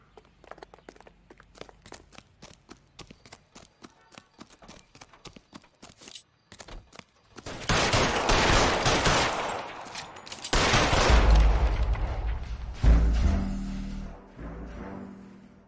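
Gunfire in the LA Noire video game: a run of sharp shots rings out after a stretch of quieter clopping footsteps, with several loud bursts and heavy low thumps following close together.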